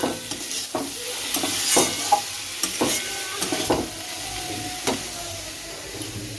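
Pumpkin and onion frying in a pan, a continuous sizzle broken by frequent scraping and knocking stirs of a spatula, close and without talk.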